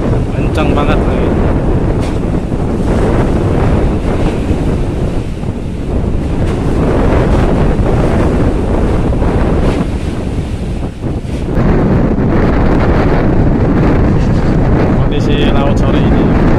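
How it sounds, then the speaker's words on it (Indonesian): Strong wind and a high sea swell roar steadily against a boat at sea on a late afternoon, with heavy wind buffeting and crashing waves throughout, and a voice faintly underneath. "angin kencang, alunnya tinggi"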